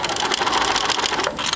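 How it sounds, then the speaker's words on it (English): A sewing machine stitching fabric, a brief rapid continuous mechanical chatter heard close and alone. "if you start to sew"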